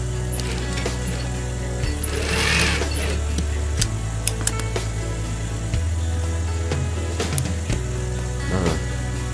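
A sewing machine stitching the cuff of a men's long-sleeved shirt: close, rapid mechanical needle clatter running in bursts of about two seconds, each with a steady motor hum, broken by brief pauses and small clicks.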